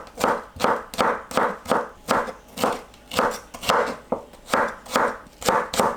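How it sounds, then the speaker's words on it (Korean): A knife slices an onion into thin strips on a cutting board, a steady series of about fifteen close, crisp chops in even rhythm with no talking. "양파를 얇게 채 썰어주세요."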